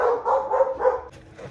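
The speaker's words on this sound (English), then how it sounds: "as soon as I hit record, they start barking again" Several dogs barking in short repeated bursts indoors, fairly loud and close, with a quieter tail at the end.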